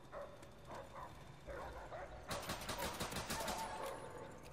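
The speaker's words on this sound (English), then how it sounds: "Oh great, they got puppies." Dogs bark in a Call of Duty multiplayer match, quick faint yaps in a short burst mixed with rapid gunfire bursts in the background.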